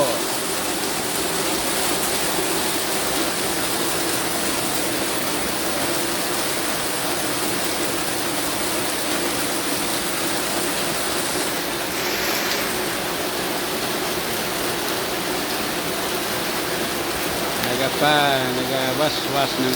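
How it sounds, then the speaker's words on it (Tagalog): Heavy rain pours down on a rainy morning as a steady, loud, unbroken wash of water, with a brief voice rising near the end. "Nagawaswas ng ulan."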